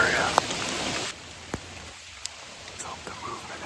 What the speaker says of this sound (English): Looks like it's gonna rain all night long